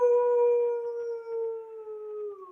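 A person imitates an animal howling at the moon, holding one loud, steady, tonal howl that slowly sinks in pitch over a couple of seconds, close and alone.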